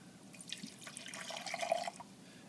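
Water poured off from a laboratory beaker during a chemistry demonstration, a faint, brief trickle and drip of liquid lasting a couple of seconds, close by and alone.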